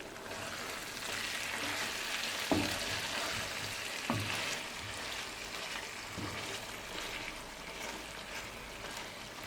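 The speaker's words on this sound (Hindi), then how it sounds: "एक बार मिक्स करेंगे।" Chicken karahi gets stirred in a pan over a low flame: steady close sizzling with a few sharp scraping knocks of the spoon against the pan, and no talking.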